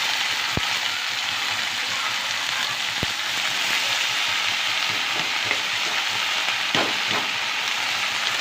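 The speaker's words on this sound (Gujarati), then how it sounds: "અને ભાજીનો વઘાર થઈ રહ્યો છે" Mixed greens bhaji of spinach and other leaves is tempered in hot oil, a loud, continuous sizzle with a few sharp pops and crackles and no voices.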